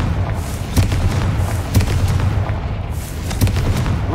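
Confringo fire spell explosions in the video game Hogwarts Legacy, several muffled booms spaced about a second apart over a loud, dense background rumble.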